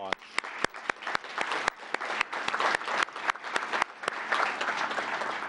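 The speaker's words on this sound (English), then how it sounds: "Please give them a round of applause." Audience applause for a high school jazz combo at an Operation Welcome Home event: a small crowd claps with sharp, scattered individual claps standing out over a steady patter, moderately close.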